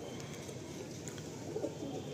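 A Madrasi pigeon coos in a loft, a soft low burbling call rising briefly near the end over steady background noise.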